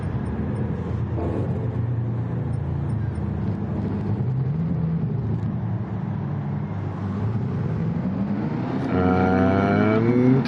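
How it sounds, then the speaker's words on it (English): A Jaguar Group 3 race car in Gran Turismo drones steadily with its engine tone rising and falling through gear changes, swelling louder and higher near the end. "So this was the Gran Turismo World Series race."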